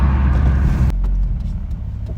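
A Volkswagen Golf 1 Cabriolet engine roars loudly at high revs, then suddenly drops away to a lower, rumbling idle.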